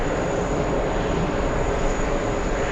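Jet airliner arriving on runway 22 right at JFK airport, a steady loud roar of engine and rushing air filling the whole moment without any voices.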